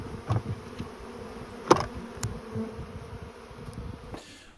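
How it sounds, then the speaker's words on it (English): Honey bees buzzing at the front entrance of a hive in a permaculture food forest, a faint continuous insect hum with a few brief closer passes. "the bees can just crawl right into this little groove and feed off of that nectar. They slide right into the front entrance of the hive."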